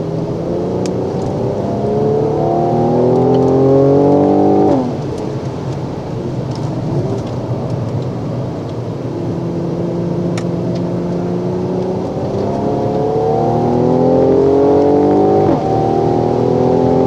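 A Mercedes-AMG C43 sedan on the Mission Raceway track, its engine droning loud and steady with rising harmonic sweeps as it builds speed, dipping briefly before the revs climb again.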